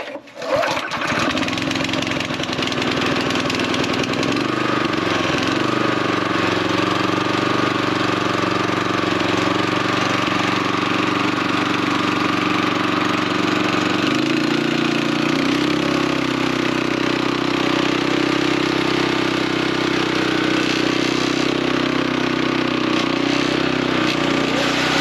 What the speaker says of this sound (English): one of the major cons I notice about this reel mower. And I'm assuming it's like that with most reel mowers. It is extremely loud.